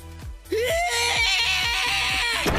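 Ryo, an anime character, lets out a loud, sustained scream that rises in pitch after a brief dull thud, with rhythmic pulsing music underneath.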